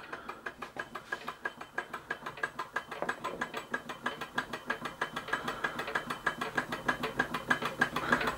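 An Empire B-38 hot air engine runs with a fast, regular mechanical clicking and ticking that stays close and steady, rising slightly in level toward the end.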